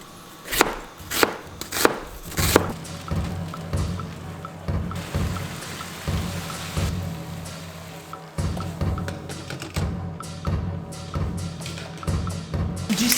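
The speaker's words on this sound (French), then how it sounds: "Et donc, il faut couper les carottes dans cette forme-là. Et les oignons, on va les couper en rondelles." A knife chopping carrots and onions on a board, several sharp quick strikes at first followed by a run of steadier cutting with clunks and knocks, close and clear with no talk.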